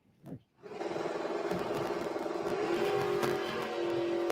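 A Pontiac Firebird launches at a drag strip, its engine roaring into a loud, sustained rising drone after a brief burst, held steadily close by for several seconds.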